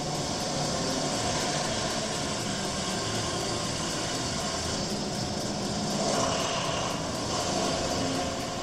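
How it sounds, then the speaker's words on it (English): A diesel generator engine runs steadily, a loud continuous broadband drone with a low rumbling hum that holds level throughout, close and alone with no talk. "this is a diesel generator. Just like a typical diesel engine, it emits toxic pollution"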